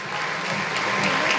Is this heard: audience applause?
yes